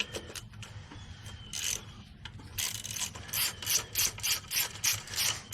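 A hand ratchet loosening two 10 mm bolts on the coil pack of a 2007 Jeep Wrangler with a 3.8L engine, giving sparse clicks and then a steady run of close, rapid ratcheting.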